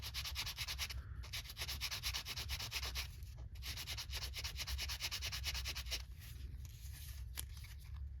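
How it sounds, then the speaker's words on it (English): Photoetch sanded with 3600-grit sanding cloth on a wood block, a steady, fast back-and-forth rasp repeating in short strokes with a couple of brief pauses, close and fairly quiet. "And we're just going to sand on top of there."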